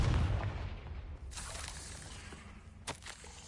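A Confringo fire spell blasting in Hogwarts Legacy, a loud booming burst at the start that rolls off into a crackling tail, then a second sharper hit near the end, with no talk over it.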